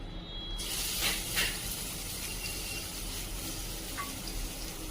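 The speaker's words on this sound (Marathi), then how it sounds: "हा लाल भोपळा परतून घ्यायचा आहे व्यवस्थित." Grated red pumpkin sautéing in melted ghee, giving a steady soft hiss and sizzle with a few brief louder bursts, close and continuous, no voices.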